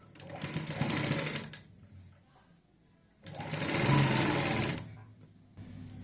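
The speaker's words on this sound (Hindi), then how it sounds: "यहाँ पे कंधी से सिलाई की शुरुआत करनी है" Sewing machine running in two bursts while stitching the shoulder seam of a kurti with a high collar neck, each run a steady whir of a second or two separated by a quiet pause.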